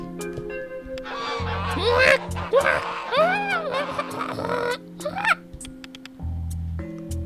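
Geese honking in the video game A Space for the Unbound, repeated nasal calls over a low, steady game music backdrop, close and prominent.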